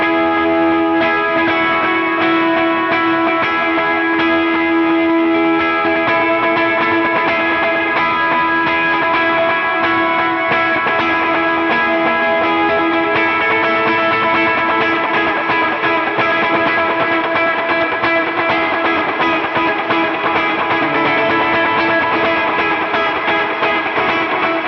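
Electric guitar run through distortion, chorus and echo effects plays a lead line for a chorus and post-chorus of a song, sustained and dense, continuous and loud throughout with no talking.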